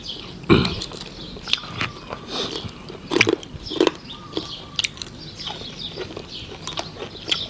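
Crunchy fried peanut snack is bitten and chewed up close in bursts of sharp crackling crunches, separated by quieter gaps.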